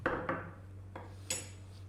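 Metal clinks and scrapes against a bowl as plain all-purpose flour is whisked for fried chicken coating, a few short, sharp strokes spaced apart, quiet and close with no talking.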